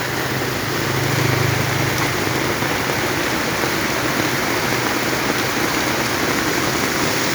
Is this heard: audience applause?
no